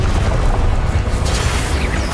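The Incendio fire spell is cast in the Hogwarts Legacy video game, giving a loud, dense, continuous roaring whoosh of flame with a heavy low rumble and no voice over it.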